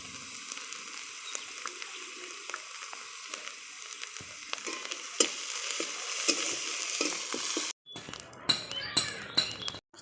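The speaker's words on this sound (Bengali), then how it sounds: "মশলাটা আমার লাল লাল করে ভাজা হয়ে গেছে," Garlic paste and spices frying in a pan for chicken malai curry give a steady close sizzle, broken by soft stirring scrapes and light clinks, then a short pause before brighter, crackling sizzle returns.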